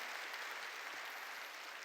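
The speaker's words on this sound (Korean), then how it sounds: "박수 치려면 치고 말려면 말고" A church congregation applauds during a New Year's Eve worship sermon, a steady, dense wash of clapping from many hands that holds level throughout without breaks.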